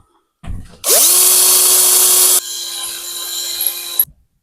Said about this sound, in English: I know how to use a drill